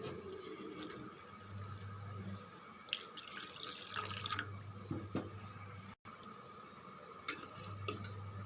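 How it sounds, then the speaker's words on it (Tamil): Water poured and stirred into flour batter for crispy vathal, a steady running, splashing wash with a few brief gaps and sharper sloshes, close and moderately loud, with no talking. "2 டம்ளர் தண்ணி விட்டு இந்த மாவை கலந்து விட்டுடலாம்."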